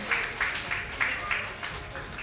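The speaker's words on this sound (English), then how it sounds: "keep clapping" Audience at an award ceremony for female small-business owners clapping in a series of soft, rhythmic bursts, fairly distant, with a presenter's voice over the applause.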